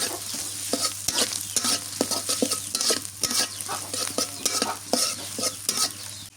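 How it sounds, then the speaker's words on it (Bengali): Loud, close sizzling of onions and green chilies frying with constant stirring scrapes, dense and continuous throughout, with no voices. "আমি হচ্ছে পেঁয়াজ আর কাঁচামরিচটা ভালো করে বাজে নিই"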